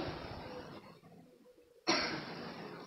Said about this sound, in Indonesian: Suara batuk dimasuk.